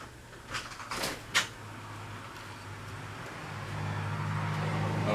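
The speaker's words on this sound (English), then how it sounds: "I'm going to open this front door." An old house's front door is opened, giving a few quiet clicks and a soft clunk near the start, then low room tone with a faint steady hum.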